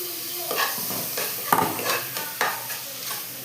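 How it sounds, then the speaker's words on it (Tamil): Chopped tomato goes into a pan of frying onions, giving a quiet steady sizzle under several sharp scraping stirs of a spoon against the pan, spaced roughly evenly through the moment. "வெட்டி வச்சுருக்கிற தக்காளியை சேர்த்துடுறேன்."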